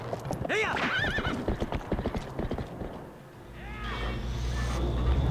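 A horse in Zelda: Twilight Princess whinnies loudly near the start, with steady clip-clopping hooves throughout and another fainter neigh later, over a continuous low game backdrop.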